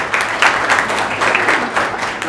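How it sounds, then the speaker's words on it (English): Audience applause at a school English declamation contest, a steady wash of many hands clapping together for a couple of seconds with no voices over it. "Please give a big round of applause."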